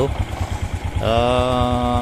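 A Suzuki Smash motorcycle engine idles steadily with a low, even pulsing throb, joined halfway by a loud, sustained whine.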